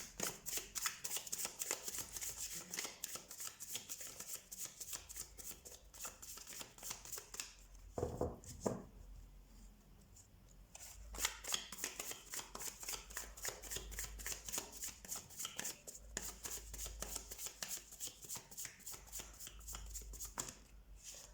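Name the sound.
shuffling tarot cards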